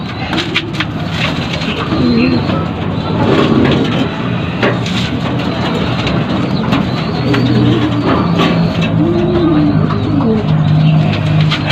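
Pigeons coo in repeated soft, low phrases close by, over a busy background of rustling and crunching noises and distant traffic.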